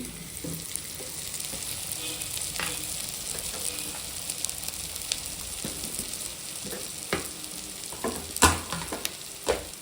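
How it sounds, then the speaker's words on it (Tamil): Chicken curry spice powders, home-ground chilli and coriander with turmeric, sizzling steadily in a pan, with scattered scraping knocks of a spoon stirring through the ten seconds and a couple of louder clacks near the end. "வீட்டில் அரைச்ச மிளகாத்தூள், நல்லா கிண்டி விட்டுக்குங்க."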